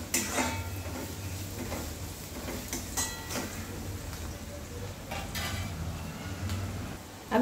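A spoon scrapes and clinks against a pan while onions with salt and asafoetida are stirred, giving intermittent metallic taps and scraping at close range over a faint background, with no talking.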